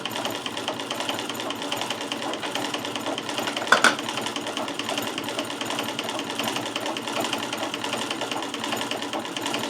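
A Davis VF sewing machine runs steadily through knit fabric with a continuous close whirring rattle, broken by one brief sharp clack partway through, with no voices.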